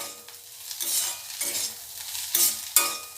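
Onions and potatoes sizzle steadily in a hot pan while a utensil scrapes and stirs in several distinct strokes, close up, with no voices.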